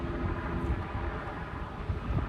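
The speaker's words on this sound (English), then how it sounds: "you can hear helicopters flying around" Helicopters fly around above the Port of Oakland, a steady broad engine and rotor rumble with wind noise, continuous and fairly loud, with no talking.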